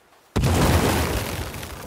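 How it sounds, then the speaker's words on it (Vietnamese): A sudden loud explosion in The Forest video game bursts in after a brief quiet moment, then rumbles and crackles on as a dense, sustained roar. "Nổ tung té."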